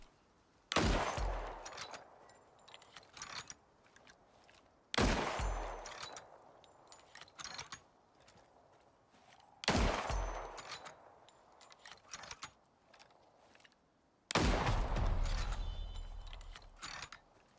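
A bolt-action 7.62 rifle fires in a video game: four loud, sharp shots spaced several seconds apart, each with a booming tail and quieter mechanical clicks of the bolt cycling in between.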